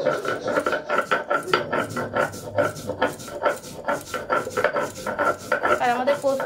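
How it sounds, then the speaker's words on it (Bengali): Poppy seeds being ground by hand on a flat sil grinding stone, making close, steady rhythmic scraping and rubbing strokes that repeat back and forth throughout. "এখানে মা পোস্তটা ভালো করে বেটে নিচ্ছে"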